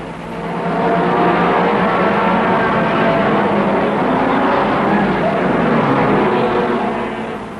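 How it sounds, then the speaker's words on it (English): Racing cars roar away together at the start of the 1961 Le Mans 24 Hours, among them an Aston Martin and a GT Ferrari; a loud, dense, sustained engine blare swells in and holds, then eases slightly. "Jim Clark in the Border Reivers Aston Martin makes a brilliant start."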